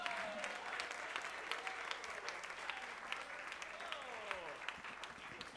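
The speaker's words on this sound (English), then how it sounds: "Everybody, let's give a warm round of applause to your next comic." Comedy club audience applauding a comedian, a steady wash of clapping with a few cheers and whoops, while a host's voice speaks over it.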